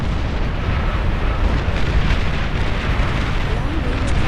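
Dense, continuous roar of explosions and battle noise from the Beyond All Reason strategy game as an enemy commander unit is destroyed, loud and sustained with rumbling low end and scattered bursts throughout.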